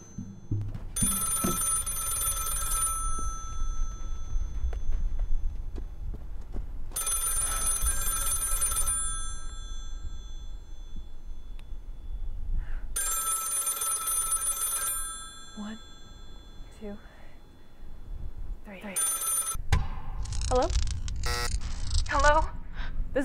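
A desert payphone rings in three long, loud electric bell bursts, close by, followed by brief rustling and a short fourth burst near the end.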